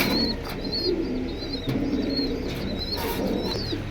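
Pigeons at a busy pigeon market give off repeated short calls and chirps over a constant crowded background murmur, fairly close and steady throughout.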